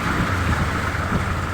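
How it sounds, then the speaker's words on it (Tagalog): Light rain falling steadily during a typhoon flood in Panginay, Bulacan, a continuous soft hiss with a low background rumble and no talk. "Hindi pa ganong malakas ang ulan yan guys."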